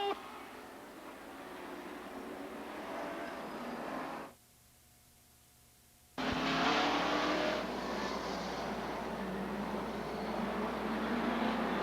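Race cars on an oval track, a distant engine drone that drops away briefly, then returns as a louder, denser roar of a field accelerating under the green flag.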